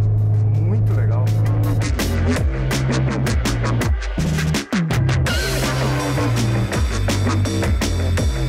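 A Peugeot 306 GTi-6 hot hatch on a fast lap, its engine revving hard and dropping through gear changes with a loud, continuous in-car drone while people talk over it.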